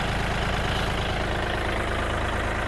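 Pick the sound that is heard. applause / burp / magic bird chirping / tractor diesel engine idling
tractor diesel engine idling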